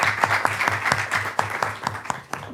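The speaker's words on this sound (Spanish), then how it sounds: "Un aplauso porque estuvo realmente interesante." Audience applause at a wildfire forum, a steady patter of many hands clapping with sharp individual claps standing out, moderately loud, with no talk over it.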